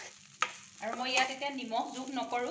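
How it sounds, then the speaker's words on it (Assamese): Bora rice grains fry in a pan with a soft, steady sizzle and light stirring, sounding mostly under a person talking close by. "এইদৰে চাউলখিনি প্ৰায় মই 5 পৰা 6 মিনিটমান সময় ভাজি ল'ম।"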